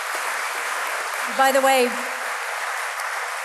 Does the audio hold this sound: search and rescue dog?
no